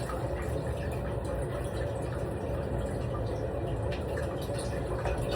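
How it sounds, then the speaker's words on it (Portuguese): Cold tap water runs steadily over cooked pasta in a pot, a continuous close rushing splash with no break for several seconds. "Aí eu passo água fria e ele corta"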